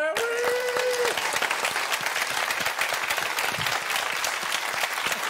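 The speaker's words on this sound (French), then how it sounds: "On peut applaudir." A studio audience at a comedy show bursts into steady, dense applause that carries through the whole stretch, loud and close, with a brief tonal note at the very start.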